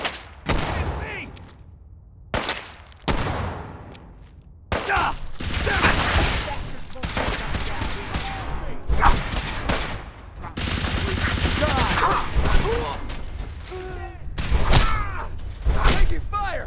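Fallout 4 combat with heavy, rapid gunfire: dense bursts of shots and thuds, some machine-gun chatter, and a few brief pauses, while voices shout over the shooting.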